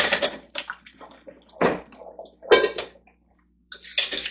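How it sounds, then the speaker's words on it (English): Boiled eggs and hot water tip into a metal strainer in a kitchen sink, giving several splashy pours and gurgles in bursts with short quiet gaps between them. "Now I will take my eggs and pour them in a strainer."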